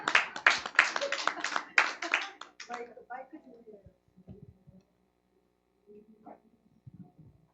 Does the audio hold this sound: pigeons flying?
no